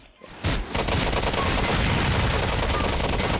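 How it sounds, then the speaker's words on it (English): Dense, continuous gunfire crackles in GTA 4 multiplayer, a rapid, unbroken fusillade of loud shots that starts abruptly and keeps going without pause. "Why are you shooting at me?"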